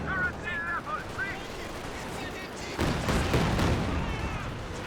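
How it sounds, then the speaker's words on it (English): Katyusha rocket barrage in Company of Heroes 2, a dense rolling volley of rapid blasts and whooshing launches that swells louder in the second half, with scattered game voice lines earlier in the clip. "Grenadiers do get forced back by the close range Katusha barrage"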